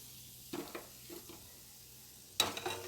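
Gulab jamun balls frying in hot oil until golden brown: a faint, steady sizzle with two short clattering stirs, the second louder near the end.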